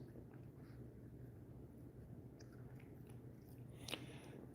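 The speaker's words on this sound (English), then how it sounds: "these dogs really chew the stuff down" Several small Chihuahua dogs gnaw and crunch on a chew treat indoors, a steady close, low chewing and biting texture throughout with a brief sharper crunch near the end, no talking.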